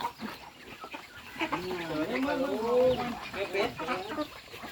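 Several chickens, a mother hen with chicks, cluck and warble close by in a short burst, with faint background noise.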